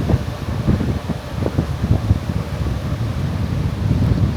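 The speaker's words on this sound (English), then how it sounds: "So it got super windy tonight" Strong night wind at a Las Vegas hotel casino roars steadily against the microphone, with low buffeting gusts and rustling throughout, no voices.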